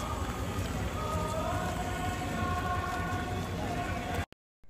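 Steady rain falls at a temple garden, a dense, even hiss of drops on surfaces, close and continuous, cutting off abruptly near the end.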